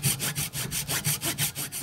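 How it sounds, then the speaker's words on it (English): Hand saw cutting through angled pieces of wood for a bass swimbait, a steady back-and-forth rasp of about ten even strokes, close and fairly loud with no talking. "So then you clamp the saw, and you start sawing"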